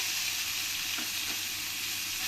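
Whole spices and onion paste fry in a pan for a Katla fish kaliya, a loud, steady sizzle close by with a brief soft stir partway through, with no voices.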